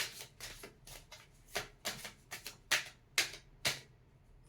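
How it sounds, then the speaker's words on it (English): Tarot cards are shuffled by hand in a run of about nine or ten quick, crisp riffling bursts, close and distinct, with short pauses between each. "two less shuffles."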